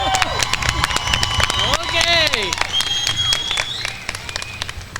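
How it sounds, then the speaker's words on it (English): An audience at the 2023 Klamath Community College commencement claps for graduating candidates, with dense, steady applause that tapers off near the end while voices speak over it. "Oh, we can give them a better clap than that."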